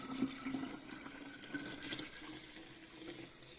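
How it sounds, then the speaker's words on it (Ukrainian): Water poured into a jar of kvass mixture, a soft steady splashing and trickle running for a few seconds, fairly faint with no talk over it. "Все, заливаємо водичкою."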